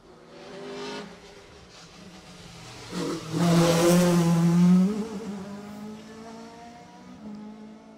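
A rally car races past on a stage of the Jersey Rally, its engine note rising loud as it sweeps through a corner and then dropping away into the distance, with a fainter passage heard earlier.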